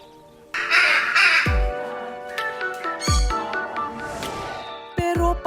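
Pet birds kept as family companions in a home call raucously in the morning, loud caws and squawks repeating in bursts close to the listener, with short sharp calls cutting through a busy background.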